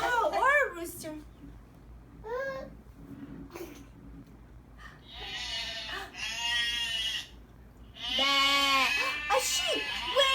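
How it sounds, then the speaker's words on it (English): Sheep bleating in several quavering calls, clear and close, mixed with an adult and toddlers talking between them in a children's animal-sounds lesson. "A sheep."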